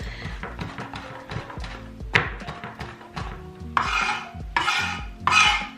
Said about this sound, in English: this is all the dill that I have, and I'm just gonna chop this up